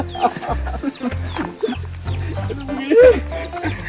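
Chickens clucking and squawking in short bursts amid other barnyard noise, with people talking nearby over the birds.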